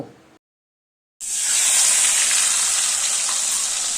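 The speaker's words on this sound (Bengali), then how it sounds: "এবার এই চিংড়ি মাছগুলো এই তেলে ভেজে নেব।" Shelled prawns, rubbed with salt and turmeric, dropped into hot oil: a brief silence, then a loud, steady, bright sizzle that holds at full strength throughout.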